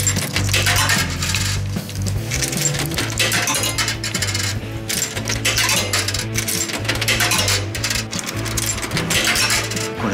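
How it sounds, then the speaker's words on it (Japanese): Coins dropping one after another into a coin locker at a Japanese hot-spring resort, steady clinking that runs over a loud, constant background. "鍵の前にお金を入れなくてはいけない。 ではここに600円ありますので"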